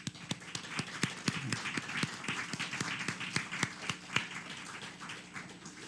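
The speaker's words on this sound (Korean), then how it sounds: "우리 한번 그 사랑에 감사하고 격려 한번 우리 부모님들한테 박수" Scattered, uneven clapping from a church congregation during a Sunday worship service on Parents' Sunday, individual claps standing out in a loose, sparse rhythm throughout with no speech.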